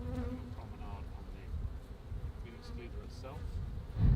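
Honeybees buzzing around a hive as a worker bee clears out a cell, a dense steady hum close by with a louder swell at the very end.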